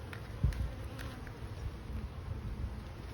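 Honeybees buzzing softly around an open hive during an inspection, a faint, steady hum with a few louder passes near the microphone against light background noise.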